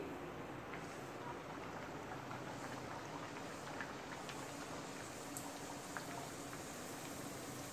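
Urad dal poori deep-frying in hot oil, a faint, even bubbling hiss that stays steady with occasional tiny crackles, heard close but quiet.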